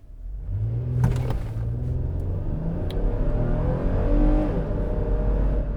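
2012 Toyota Highlander accelerating hard from 0 to 60 mph, a loud steady engine roar with rising revs and audible gear shifts, heard from inside the cabin without talk.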